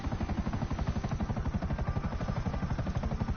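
A helicopter in a PS4 video game gives off a rapid, rhythmic rotor chop over an engine drone, steady and fairly loud with no talk.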